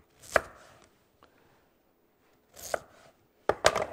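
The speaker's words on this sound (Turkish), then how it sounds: "Sonra da evet şöyle dörde bölelim patateslerimizi." A knife cuts potatoes into quarters on a cutting board, giving three separate bursts of chopping and cracking with quiet gaps between them, close and fairly loud.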